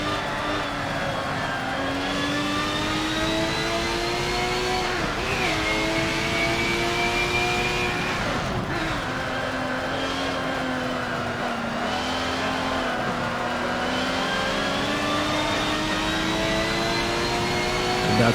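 Race car engines in Forza 7 scream continuously at close range, rising in pitch through each gear and dropping sharply at shifts, with overlapping engine notes from nearby cars and no talking.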